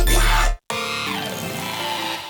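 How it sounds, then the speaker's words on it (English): Heavy synth bass layered with a resonator and washed in reverb, a dense loud buzzing tone that cuts out briefly to silence, then returns with a resonant sweeping sound that sustains to the end, with no voices. "that main bass also has a resonator layer on it"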